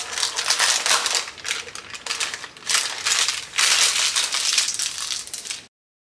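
A knife sawing through a loaf of cream cheese pumpkin bread: close, loud crunching and crumbly scraping in several uneven strokes over about five seconds, then silence, with no talking.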